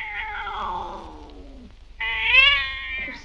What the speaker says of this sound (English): You're twisting that poor cat's ears off.